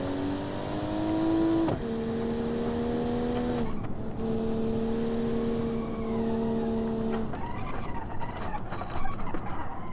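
Car in the BeamNG.drive driving game running off the track under understeer, its engine holding a steady drone that drops in pitch partway through, then turns rougher with scattered scraping and knocking as it leaves the track.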